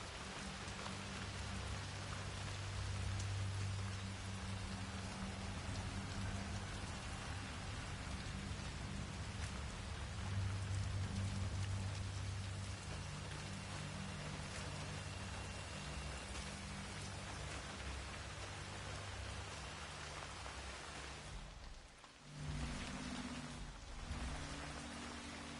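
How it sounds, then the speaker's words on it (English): Steady rain in the video game Hitman 3 hisses continuously, with a low rumble beneath and a brief dip near the end, no voices. "I'm never going out in the rain again."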